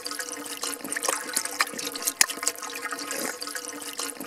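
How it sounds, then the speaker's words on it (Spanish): Water running and splashing in an old stone fountain beside a well, a steady trickling flow with scattered drips and gurgles, close by and alone. "Esta es una fuente y es un pozo con agua de los de antes."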